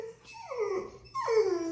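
Dog whimpers and yips played back from a homemade tape recording, two drawn-out whining cries in close succession, fairly loud and alone with no talk.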